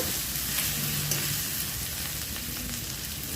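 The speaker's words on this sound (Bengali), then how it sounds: "আদা বাটাটা দেওয়ার পর একটু নেড়ে নিয়ে ভেজে নিব" Ginger paste and onions fry in a pan while being stirred, a steady loud sizzle with faint scraping strokes, close up and continuous.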